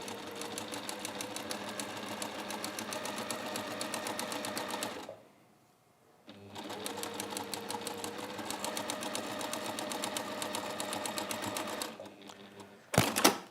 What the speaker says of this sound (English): we've sewn those together in pairs now